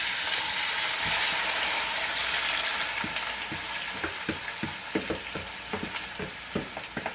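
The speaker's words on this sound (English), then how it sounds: "the oil is hot. I am gonna put my beef in" Beef pieces browning in hot oil in a pot for Jamaican stew beef give a loud, steady sizzle, with a run of sharp clinks and stirring knocks in the second half and no talking.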